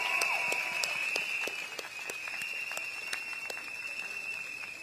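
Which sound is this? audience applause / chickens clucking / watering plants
audience applause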